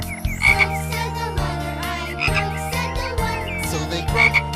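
Frogs croak over a steady musical backing in a children's song about a rainforest, giving repeated rhythmic croaks with no singing voice in the stretch.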